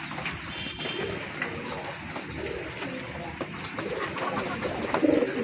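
Pigeons, including red-colored fancy breeds kept for sale, coo softly in a steady low murmur amid a busy, noisy loft, with faint bird chatter around them.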